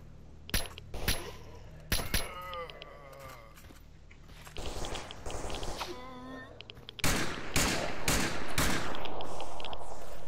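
S.T.A.L.K.E.R. Anomaly gunfire: several loud, sharp single shots spread out, a stretch of quieter action between them, then a dense close volley of shots at the end, with a voice heard now and then.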